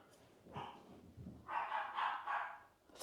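Dogs bark in a home kitchen, a few faint, somewhat distant barks and yips spread across a short stretch, with no one talking over them.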